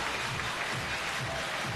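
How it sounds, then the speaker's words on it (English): Basketball fans at a Newcastle Eagles home game applaud their team late in a BBL Cup win over Cheshire Phoenix, a steady, fairly distant arena wash of clapping with faint crowd murmur. "Just giving the Eagles a nice round of applause."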